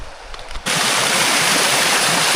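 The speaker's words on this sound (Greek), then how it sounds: "Αυτό που είναι το νερό του καταράχτη." Rushing water of the Trypi waterfall, a loud steady broadband roar that swells in abruptly after a brief quieter moment and continues unbroken.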